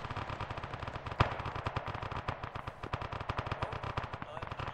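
Rapid bursts of automatic rifle fire in a video game crackle in steady repeated volleys, with one sharper, louder shot standing out early; loud and close throughout.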